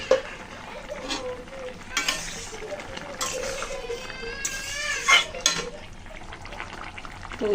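A pot of eel curry with bitter gourd and potato is stirred, the spoon scraping and clattering against the metal sides in short bursts over a faint simmer, with a voice talking at times.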